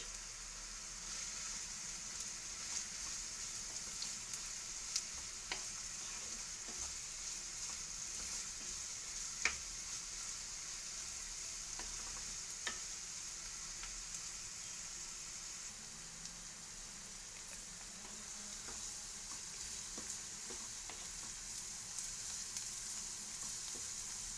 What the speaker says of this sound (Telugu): ఆయిల్ హీట్ అయిన తర్వాత one cup onions green chillies వేసుకుని వేయించుకోవాలి